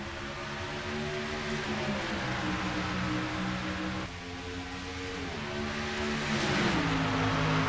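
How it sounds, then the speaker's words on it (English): Stock cars racing at Dover after the green flag, engines droning loudly and continuously with rising and falling pitch as the pack accelerates, no talk over it. "Dylan Young, as the green flag flies, and they're racing at Dover."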